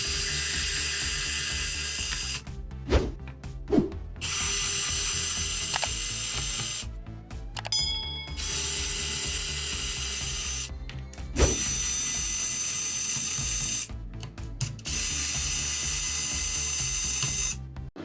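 Screws being backed out of a Walton N41 Pro laptop's underside with a ratcheting screwdriver, a run of close, crisp ratchet clicks in bursts separated by short pauses, with occasional sharper metallic ticks and no talking.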